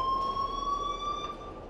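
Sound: school alarm ringing in Life is Strange video game

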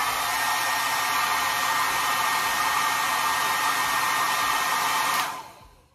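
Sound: hair dryer running on high

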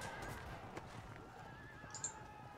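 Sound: horses neighing, horse archers in Field of Glory II video game

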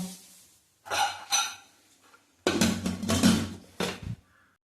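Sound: closing a pressure cooker

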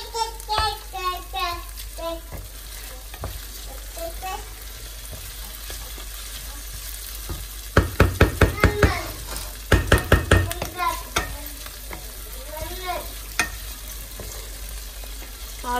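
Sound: onion frying and browning in a pan

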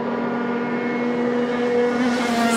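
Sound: Rotax Max racing karts driving past during qualifying

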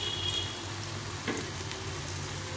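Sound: gourd leaf fritters frying in oil

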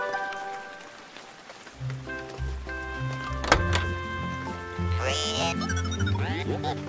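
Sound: rain falling in a children's cartoon

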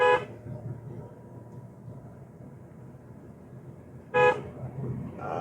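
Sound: car horn honking

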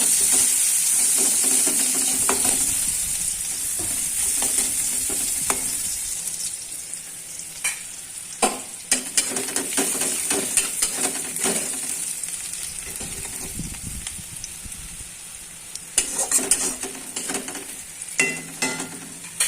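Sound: onions frying and being stirred in pan

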